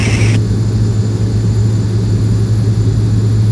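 A Beech King Air propeller aircraft drones steadily in flight, a loud, constant engine hum with a low tonal buzz and a brief higher whine at the very start.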